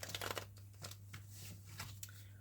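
Tarot cards being shuffled by hand in a few quick riffling bursts, soft and close, over a steady low hum with no talking.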